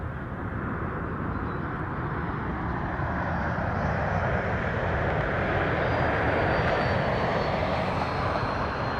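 Jet aircraft taking off from runway 24 right at Toronto Pearson, a loud, continuous roaring engine rush that holds steady and swells slightly, with no voices.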